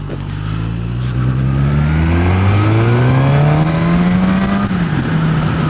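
A 2016 Suzuki GSX-S1000 motorcycle engine on its stock exhaust revs loud and close, pitch climbing steadily as it accelerates, then briefly dipping and holding at high revs.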